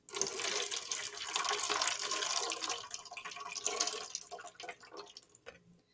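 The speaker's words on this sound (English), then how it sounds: "and I'm going to pour that in my jug" Water, 200 millilitres, is poured into a jug in a steady, gurgling splash for about five seconds, fairly quiet, before trailing off into a few drips.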